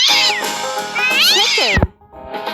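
A cat's meow sounds in a children's farm animal game, loud and close, a rising and falling wavering cry lasting nearly two seconds before a brief pause.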